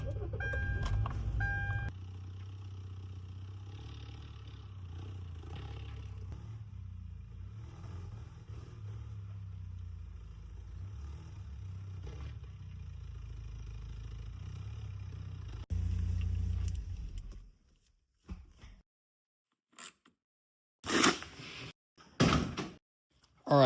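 An old Porsche 944 engine idles with a low, steady rumble close by for about fifteen seconds, then goes quiet. A few sharp door-like thuds and clunks follow.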